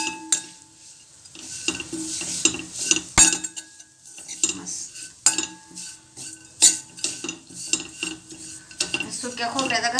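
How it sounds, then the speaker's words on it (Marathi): Grated dry coconut being stirred and roasted in a pan for modak filling: a spoon repeatedly scrapes and clinks against the metal pan over a faint dry sizzle, close and unaccompanied by talk. "खोबऱ्याचा खिस ते पण चांगला 2 मिनिटं चांगला ह्याचा एकजीव करून भाजून घ्यायचं"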